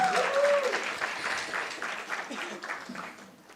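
Audience applause at a school teaching and learning festival, a short burst of clapping that fades over a few seconds, with a voice talking over the start.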